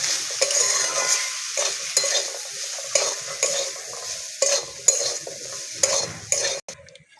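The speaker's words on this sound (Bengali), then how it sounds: "মশলাটাকে আবার ভালো করে ভেজে নেব সবজির সঙ্গে" Turmeric and chili powder fry with vegetables for a vegetable dal, the pan sizzling steadily while a spoon scrapes and stirs in repeated strokes, close and clear with no talking.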